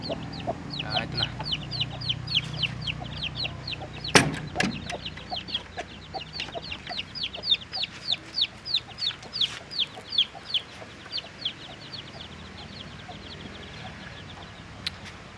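Free-range village chickens cluck in a farmyard, a run of short repeated clucks and chirps that grows denser and more rhythmic, with one sharp louder squawk early on, fairly near with no talk.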